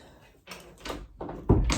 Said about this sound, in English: So here we close the door